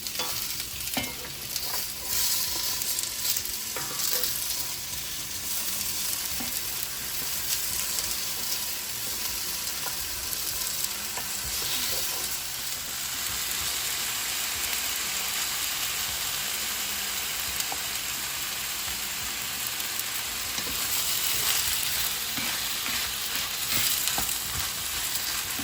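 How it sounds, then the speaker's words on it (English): Onions and cubed chuck roast beef fry in a pot, a dense continuous sizzle with steady stirring and scraping throughout, close and fairly loud. "into that I dropped my onions and began frying those off while my quince was cooking"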